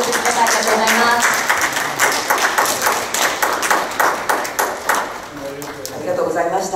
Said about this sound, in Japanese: どうぞ拍手をお送りください。